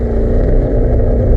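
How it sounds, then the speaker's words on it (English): Aston Martin Vantage GT8 V8 engine burbling with low, rumbling pulses as revs fall off, steady and close throughout with no talking. "You get that lovely V8 burble as the revs are coming off."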